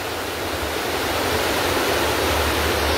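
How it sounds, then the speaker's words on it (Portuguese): Water pours through the iron floodgates of the Engenheiro Ávidos dam, a loud, steady, close roar of rushing water that never lets up, with no voices. "Observe que tem muita água passando ali."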